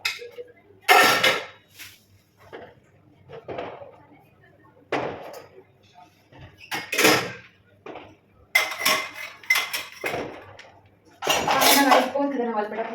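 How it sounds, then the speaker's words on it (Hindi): Kadhai and metal utensils being set down on a lit stove in a home kitchen, giving a series of clanks and clinks in irregular bursts, fairly close, with some talk between them. "उसके बाद डालेंगे हम कढ़ाई, और फिर जो ये बर्तन है इनको हम सेट कर देते हैं।"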